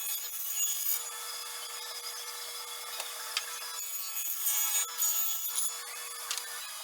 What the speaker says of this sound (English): So the first thing I'm going to do is cut my dados in my two sides